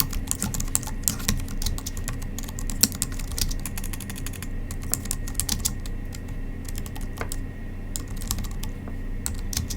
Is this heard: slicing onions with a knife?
no